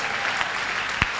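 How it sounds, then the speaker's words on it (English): A church congregation at a national convention claps for the Lord, a brief burst of dense, loud hand clapping from many people, with one heavier thump near the end. "give the Lord a hand clap in this place"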